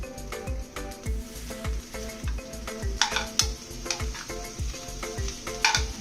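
Fried bitter gourd with curry leaves stirred in a hot pan, a spatula scraping in a brisk regular rhythm over a continuous close sizzle and faint clinks, no voices.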